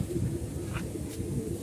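A pigeon coos softly nearby, a low murmuring call over steady background hum, with no voices.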